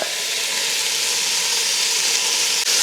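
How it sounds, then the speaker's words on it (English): Bacon crackles and sizzles steadily in a hot pan, a dense, loud, continuous frying hiss with no talk over it. "we're just gonna render this down, get this bacon nice and crispy"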